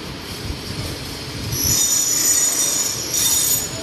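A Yellow Line electric train in Bangkapi, Bangkok rolls past, its wheels squealing in a high, sustained screech over a steady rumble that grows louder midway and stays close.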